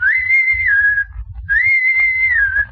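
Two loud, clear human whistles given as a signal, each about a second long with a short pause between, close and alone.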